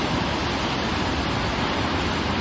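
Floodwater in a river that is running bank to bank rushes past with a steady, loud, broadband roar, continuous and close, with no talking.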